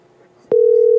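After a soft, quiet line hiss, a steady phone tone suddenly switches on and holds loud and unbroken, following a voicemail message.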